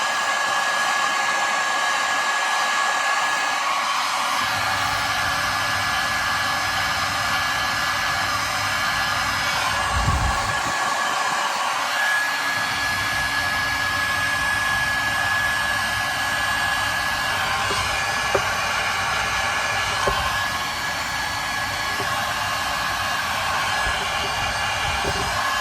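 A heat gun blows steadily at close range while heating shrink tubing on wiring during a VW camper van electrical install, giving a continuous, loud airy roar with a faint whine and no speech.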